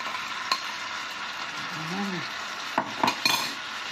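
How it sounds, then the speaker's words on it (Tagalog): Raw shrimp tipped into a frying pan of sizzling garlic, giving a steady frying hiss with a few sharp utensil clinks and scrapes toward the end. "At ilagay na po natin itong ating hipon."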